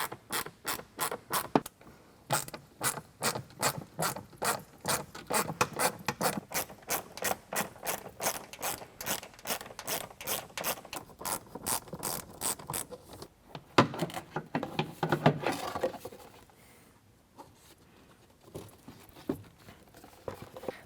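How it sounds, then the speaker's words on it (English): An 8mm socket ratchet removing the factory air box bolts during an AFE Power cold air intake install, rapid rhythmic clicking in long close runs with brief pauses, then fainter handling and scraping near the end. "Use an 8mm socket to pull that out."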